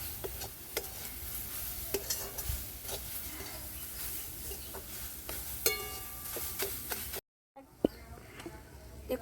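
Hot ghee poured over grated carrots for carrot halwa gives a soft crackling sizzle with scattered clicks and stirring, fairly quiet, broken by a short cut before the sizzling resumes.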